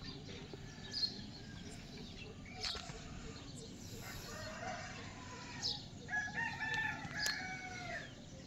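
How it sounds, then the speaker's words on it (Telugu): Roosters crow faintly and at a distance in a village before sunrise, several separate calls scattered over quiet outdoor ambience with occasional clucks. "కోడి కూతలు"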